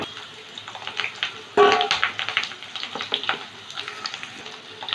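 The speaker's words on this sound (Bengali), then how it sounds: "তেলটা গরম হয়ে গেছে, আলুগুলো ভেজে নেব।" Potatoes fry in hot mustard oil in a wok, a busy crackling sizzle with a sharp burst as they drop in, then steady spitting and popping close by, with no voices.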